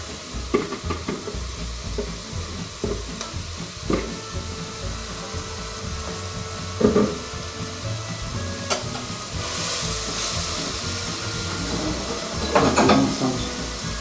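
Cabbage sizzling and frying in a hot pan, a steady hiss broken by stirring clatters and spatters, up close and without talk.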